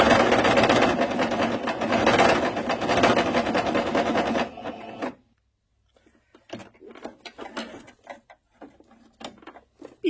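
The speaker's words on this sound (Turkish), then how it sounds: "Bir makine ayağıyla dikiyorum ben." Sewing machine stitching a table runner with a presser foot, a loud steady whirring run for about five seconds that stops abruptly, followed by quiet scattered clicks and handling of fabric.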